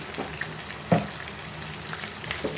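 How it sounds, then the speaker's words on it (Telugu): Ginger garlic paste frying in a pan for chicken curry, a soft steady sizzle with a few faint stirring scrapes and one louder clack near the middle. "అల్లం వెల్లిపాయ పేస్ట్ కూడా ఇప్పుడే వేసేసుకోవాలండి"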